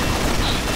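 Gunfire in a zombie shooter video game, a dense steady stretch of shots filling the whole moment at constant loudness with no clear gaps.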